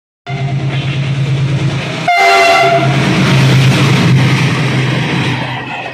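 A toy Tom train gadi plays a loud electronic horn and rolling clickety-clack sound effect, close and alone, with a sharp switch partway through.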